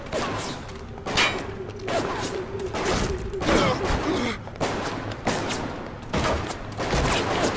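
Repeated bursts of gunfire from the shooter video game BioShock, loud and close, with clustered volleys and crashing impacts spread across the whole stretch.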